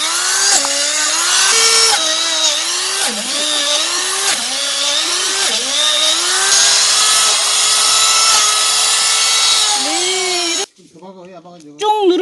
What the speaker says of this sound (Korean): 그럼 지금부터 제가 이제 뚫고 접종을 하고 이러한 모습을 여러분들한테 보여드리겠습니다